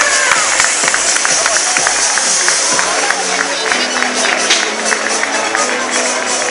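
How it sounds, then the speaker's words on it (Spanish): Dense, loud carnival crowd in Torrejón clapping and cheering steadily for costumed parade prize winners, a continuous wash of applause filling the whole stretch with scattered whoops. "¡Fuerte aplauso para los pioneros!"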